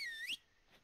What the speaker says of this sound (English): See if we can move with a whistle.